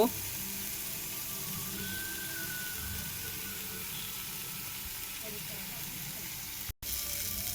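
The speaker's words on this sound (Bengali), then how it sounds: "এবার স্বাদ মতন নুন আর হলুদ দিয়ে দিলাম, দিয়ে ভালো করে আমি কষাবো, খুব সুন্দর করে কষাবো।" Spices with salt and turmeric sautéing in a pan, a soft steady sizzle and hiss with faint stirring underneath, heard close throughout with a brief dropout near the end.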